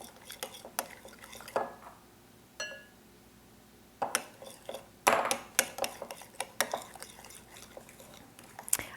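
A spoon stirs homemade taco seasoning into a layered dip in a bowl, giving irregular scraping clinks and knocks against the dish, quiet at first and then busier and more frequent, with no talking.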